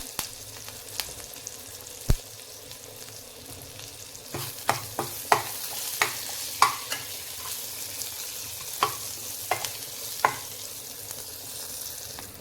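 Asafoetida and curry leaves crackle in hot oil, with a steady background sizzle broken by a string of sharp pops and spatters spaced irregularly through the clip, one especially loud burst early on.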